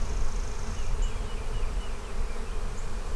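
Honey bees swarm in a dense, steady buzz around an opened hive frame during a walk-away split, the drone close and continuous with no voices.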